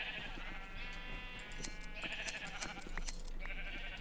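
Blocky sheep in a Minecraft survival server bleat several times in a row, short nasal calls overlapping with soft game clicks and ambient sounds, with no voices present.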